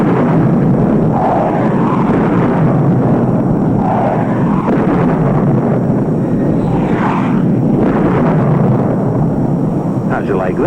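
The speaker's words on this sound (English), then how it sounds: "We'll start right off with a bang. I should say boom. Sonic boom." A loud, rumbling jet roar with heavy booming blasts, sustained and close, the deep thunder of a USAF Thunderbirds jet passing overhead with a sonic boom above the desert in 1958.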